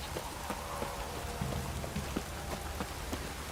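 Heavy downpour in The Witcher 3: Wild Hunt, a steady dense hiss of rain pattering on surfaces with scattered sharper drop impacts, continuous and close throughout with no talking.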